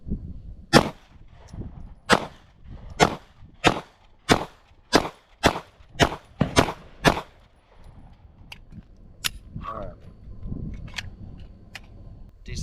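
An HK CC9 pistol fires at an outdoor range, with about ten sharp, loud shots in a steady string, some close together. Quieter clinks and handling noises follow.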